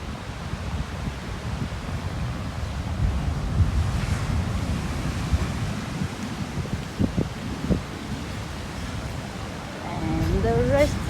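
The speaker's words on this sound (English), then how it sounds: "do you see the ocean?" Ocean surf washes steadily below a resort restaurant in Sri Lanka, with rumbling waves and wind buffeting the microphone while people talk nearby.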